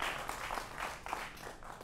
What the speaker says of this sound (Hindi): जोरदार तालियों से आपका अभिनंदन है